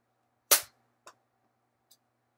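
A Quick Shock toy slingshot launching a ball: one sharp snap, then two fainter taps a half second apart as the ball bounces away in a quiet room.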